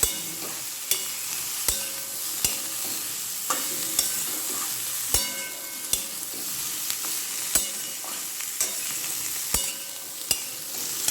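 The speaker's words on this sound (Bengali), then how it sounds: "এটাকে ভালো করে কষিয়ে নেব। টমেটো দেবো, টমেটোটাও দিয়ে দেবো।" Tomato being stirred and sautéed in a pan for Bengali chana dal with jackfruit, a steady close sizzle broken by frequent sharp spoon scrapes and clinks against the pan, with no talking.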